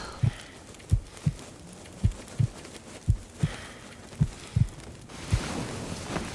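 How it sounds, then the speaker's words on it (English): Heartbeat in the video game The Long Dark: a slow, regular series of low thumps, about ten beats, over faint wind, ending in a rising gust of noise. "Oh my god, the heartbeat stops."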